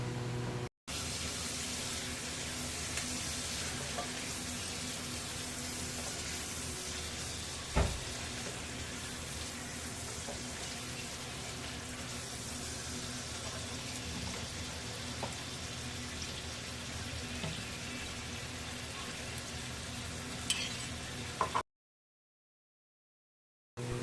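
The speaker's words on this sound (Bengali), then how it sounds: "সব ভালোভাবে একসাথে নেড়ে চেড়ে ভেজে নেব" Chopped onion, nuts, ginger and garlic fry in a pan for a curry with a faint continuous sizzle, an occasional scrape of stirring, and a sharp clack partway through before the sound cuts out.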